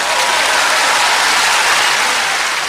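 Dense, steady audience applause fills the room at a comedy stage performance as a humorist walks on, loud and continuous from start to finish with no talking.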